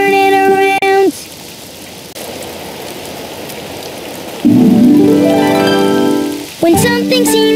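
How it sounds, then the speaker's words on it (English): Steady rain hisses throughout, with voices and tonal sounds breaking in at the start and end, and a rising tone sweeping through mid-way. "Oh, it's raining outside."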